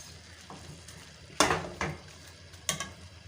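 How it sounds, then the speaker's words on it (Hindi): A spoon scrapes through mustard greens saag in a pot as spices are stirred in, giving three or four distinct scraping strokes over a low background, with no talking. "उसको हम पूरे को मिक्स कर लेते हैं अच्छे से"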